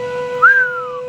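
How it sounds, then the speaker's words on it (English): A single short whistle blown for a UK Railway 200 celebration, rising quickly and then sliding down in pitch over about half a second against a quiet background with a steady tone underneath. "the UK's oldest railway will join stations all over the country in a whistle."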